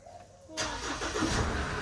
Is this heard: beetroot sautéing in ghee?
no